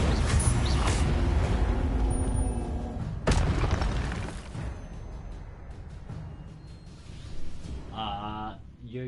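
A burst of fire from the Incendio spell cast in Hogwarts Legacy, a loud sudden whoosh and boom rising out of dense game action, then fading into quieter magical effects.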